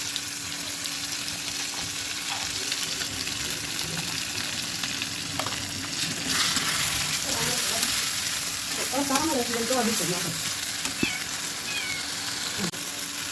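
A ginger-garlic spice paste with tomato fries in a pan, giving a steady low sizzle with spoon-stirring scrapes; a cat meows several times in the middle, and a voice is faintly present.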